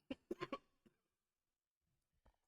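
A close, hoarse cough lands in a quick cluster of three or four bursts, then one weaker cough follows, with a faint rough throat sound near the end.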